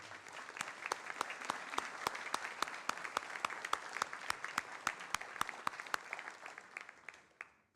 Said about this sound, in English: I want you to all give yourselves a round of applause